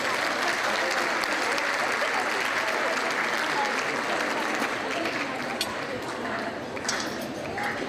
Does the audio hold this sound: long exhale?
no